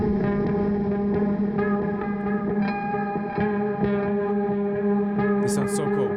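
Heavily effected guitar from Keep Forest's Appex modern trailer guitar library rings out as a dense, distorted, sustained chord wash with shimmering echo and chorus, loud and continuous, with no talk.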